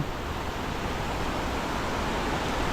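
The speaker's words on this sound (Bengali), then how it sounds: "দেখো সামনে বয়ে যাচ্ছে মূর্তি নদী জলের স্পিড তোমরা দেখতে পাচ্ছ" Continuous rushing water of the Murti River near Kalimpong, a steady broadband wash of fast flow, with no voices or other distinct sounds.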